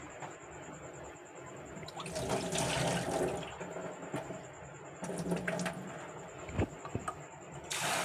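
Flour dough being washed in water and the milky water poured off, a continuous close splashing and trickling with sloshes and small clunks of a vessel, no talk.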